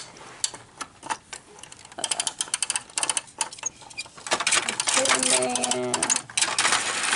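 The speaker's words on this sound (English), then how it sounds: "that steamroller keeps rolling" A small battery-powered toy steamroller motor whirs and clicks as it rolls through a Fast Lane construction playset, with irregular ticking bursts that build into a steadier mechanical buzz, while a voice talks alongside.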